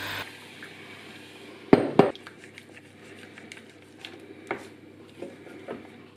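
Flour and milk Christmas pudding batter is mixed in a bowl, with soft squishing strokes, two sharp clinks of a utensil against the bowl and a few lighter taps, all fairly close and without talk.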